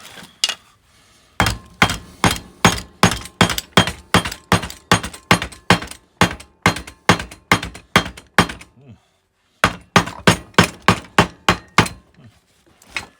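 Repeated metal hammer strikes on the brake plate of a Honda Big Red 250es three-wheeler, a fast run of loud, sharp clanks with a short pause before a second burst of blows.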